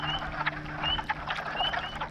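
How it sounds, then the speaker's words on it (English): A chorus of frogs, including spring peepers, cricket frogs and chorus frogs, calls outdoors at a breeding pond, with high whistled peeps and croaks overlapping continuously at moderate distance. "you're probably going to still hear some spring peepers"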